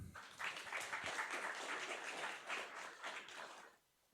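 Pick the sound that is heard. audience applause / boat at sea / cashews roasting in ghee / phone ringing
audience applause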